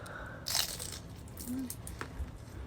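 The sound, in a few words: crunching on chicharon bulaklak, fried pork fat snack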